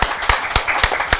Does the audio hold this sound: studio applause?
yes